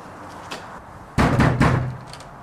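Knocking on a door in a short dramatic film, a few loud thuds clustered together after a quiet stretch with a faint earlier tap, no voices.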